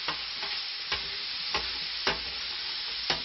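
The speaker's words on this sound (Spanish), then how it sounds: "le vamos a añadir los calamares, que los tenemos troceados a rodajas. Los sofreímos también repartiendo bien." Squid sliced into rings stir-fries in a pan for black rice paella, a soft sizzle broken by about six regular scraping stirs, with no talking.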